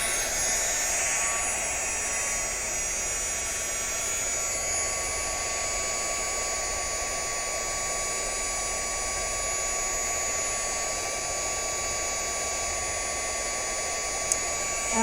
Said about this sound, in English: we're going to take our heat gun, turn that on high